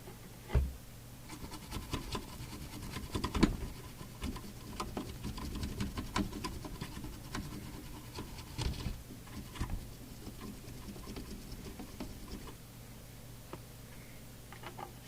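A toothbrush scrubs a Midland 76-900 CB base station circuit board with isopropyl alcohol, giving faint, irregular scratchy strokes and light ticks at close range.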